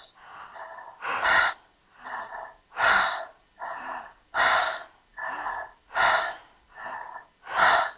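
People doing a deep breathing exercise: a regular series of about nine loud, sharp breaths, alternating between forceful gasping inhales and softer exhales, evenly paced and close, with no talking.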